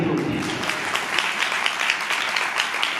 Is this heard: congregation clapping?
yes